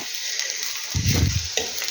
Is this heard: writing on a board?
no